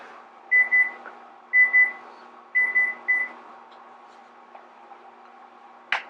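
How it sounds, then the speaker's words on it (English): Quiet electronic beeps from a microwave timer being set sound in four short pairs in an otherwise near-silent room, ending with a faint click. "I'm going to set the timer on the microwave for 10 minutes."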